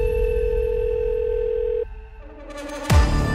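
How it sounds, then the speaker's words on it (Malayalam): A telephone gives a loud, steady electronic tone that cuts off abruptly, followed by a quieter stretch and then a sharp, booming hit. "പെട്ടെന്ന് 10:30 ഫോൺ കോൾ."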